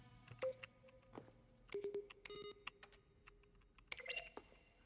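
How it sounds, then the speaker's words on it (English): Button presses in The Stanley Parable: Ultra Deluxe, each one a keyboard keystroke mixed with a synthesized tone, sounding as a quiet, irregular run of clicks and short beeps. "When buttons are pressed, each sound is a mix of the keyboard stroke and the synthesized tone."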